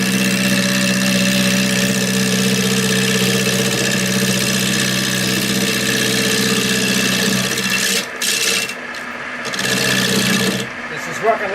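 A lathe runs steadily with a constant mechanical hum and whir, the machine worked left-handed from the wrong side; the drone dips briefly near the end as the cut changes.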